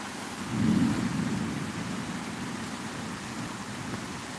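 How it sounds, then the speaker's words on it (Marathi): Heavy rain pours steadily with a low roll of thunder swelling early on and then fading into the constant hiss of rainfall. "अरे पाऊस येत आहे आतमध्ये"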